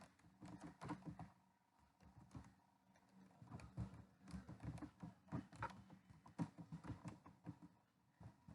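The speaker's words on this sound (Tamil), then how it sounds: "ஸோ ஒரு சிம்பிள் ப்ரோக்ராம் ஒன்று டைப் பண்ணலாம்" Rapid, uneven keystrokes on a computer keyboard as a simple C++ program is typed, a dense clatter of close taps with brief pauses between bursts and no talking.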